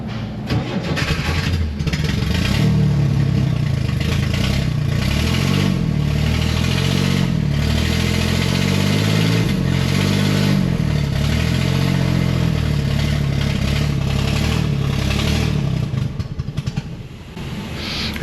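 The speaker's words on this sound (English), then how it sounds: "It sounds to me like it also needs carburetor work." An old engine that has sat unused for years runs roughly and needs carburetor work. It throbs close and loud with an uneven, lumpy idle and wavering speed, then stumbles near the end.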